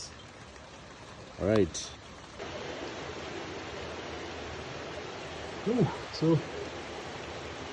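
Steady rain falling outdoors during work on an old rusty generator, a constant hiss throughout with brief speech over it.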